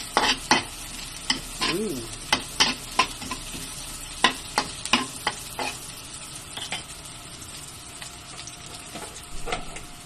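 Garlic and ginger sauté in a hot pan with a continuous sizzle, broken by repeated sharp scraping strokes of a spatula at an uneven rhythm, close and fairly loud, with no voices.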